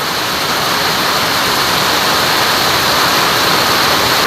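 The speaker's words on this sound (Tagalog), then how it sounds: "Bumaha na yung ating farm." Floodwater rushes across a flooded farm in a loud, dense, unbroken roar of churning water. It is steady and close, with no voices.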